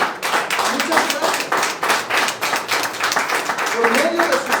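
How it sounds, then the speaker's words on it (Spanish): Church congregation at a Spanish-language Thursday service clapping in praise, a steady stream of close, crisp handclaps with slight rhythmic pulsing and a few voices underneath. "¿Cuántos le dan un aplauso al Señor, amados hermanos?"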